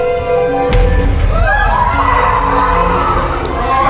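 A theater audience reacts in shock with a loud, dense swell of gasps and shouts, a sharp bang near the start, and voices tangled through the din.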